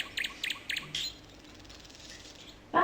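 Birds chirping in short bright bursts: three quick tweets, a longer call, a quiet gap, then another chirp at the end, close and clear with no talk.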